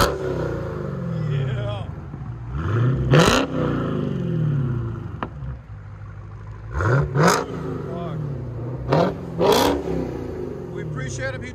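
2016 Dodge Challenger SRT Hellcat with a 6.2L HEMI V8, dual exhaust and high-flow cats, revved repeatedly in short sharp bursts over a rumbling idle, with people talking nearby.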